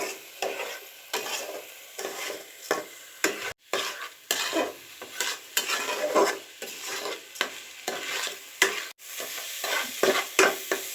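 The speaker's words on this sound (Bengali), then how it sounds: "অনেকটা পরিমাণে ভাজা হচ্ছে, একদম পানিটা টেনে গিয়েছে, ভাজা ভাজা হচ্ছে সুন্দর করে।" Chinigura rice frying crisp in a pan for pulao after its water has cooked off, with steady sizzling broken by repeated scraping stirs of a utensil against the pan, close and fairly loud.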